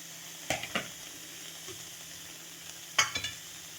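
Green chillies dropped into a hot pan with ash gourd for a Kerala pulinkari curry make two soft clattering spatters a few seconds apart over a quiet, low sizzle, with no one talking.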